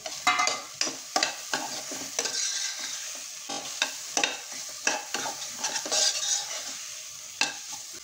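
Chopped dill leaves are added to a hot pan for shepu moong dal and stirred, with a spoon scraping and clattering repeatedly over a soft, steady sizzle.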